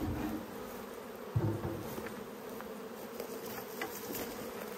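Bees buzz around a hive outdoors in the Australian summer, a continuous mid-level drone of many insects with a brief louder bump near the start, and no one speaking.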